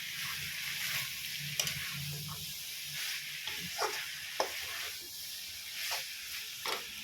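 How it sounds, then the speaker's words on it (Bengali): A jackfruit and prawn vegetable dish sizzles in a pan with a soft, steady hiss, broken by scattered stirring scrapes and small spits, heard fairly close at low volume with no talking. "এখন আমি সবজি বসিয়ে দিয়েছি, কাঁঠাল চিংড়ি।"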